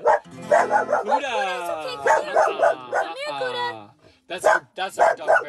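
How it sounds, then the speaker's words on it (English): A year-old puppy dog barks indoors in quick, close bursts, then breaks into a long, whining howl before more sharp yaps follow. "Come on. Don't do that. No barking."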